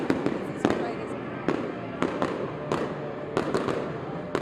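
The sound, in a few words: fireworks at opening night celebration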